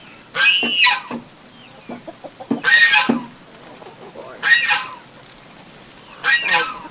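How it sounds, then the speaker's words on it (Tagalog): A chicken clucks and squawks in four loud, raspy bursts spaced a couple of seconds apart, close by. "Kukulit ng manok."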